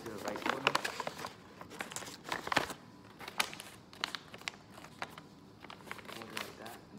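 Sheets of origami paper being folded into a heart, crisp crinkling and creasing rustles arriving in irregular bursts close by, with a voice talking over much of it.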